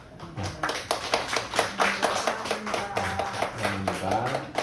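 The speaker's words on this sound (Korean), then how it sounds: "이현주 성도님 일어나시면 축하 박수 드리겠습니다" Church congregation claps in congratulation during a worship service, a steady run of hand claps with voices and music going on underneath throughout.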